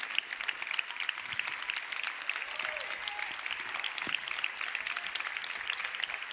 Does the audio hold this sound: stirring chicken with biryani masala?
no